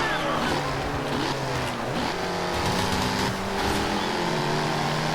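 Engine of a race car in the Forza Horizon 2 video game, driving on a wet street in rain, sustained revving and shifting with tire hiss throughout, loud and continuous, with possible faint game commentary underneath.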